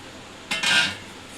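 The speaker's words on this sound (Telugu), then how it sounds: "ఇప్పుడు మనం కడాయి పెట్టుకుందాం" Metal kadai (wok) set down on a stove, a single close clanking contact with a brief ringing metallic rattle that quickly fades.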